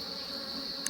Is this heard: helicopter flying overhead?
no